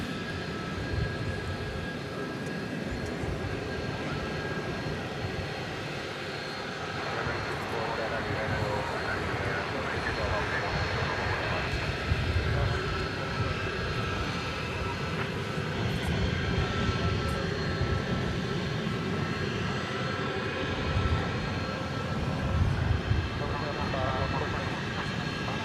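Jet aircraft engines at DFW Airport at night, a loud steady roar and whine filling the air continuously, with faint voices mixed underneath.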